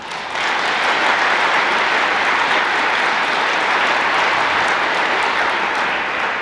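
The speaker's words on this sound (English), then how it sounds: "Let's give everyone one more round of applause." Loud, sustained applause from a breakfast audience honouring the volunteers who served them, many hands clapping evenly for several seconds at full strength.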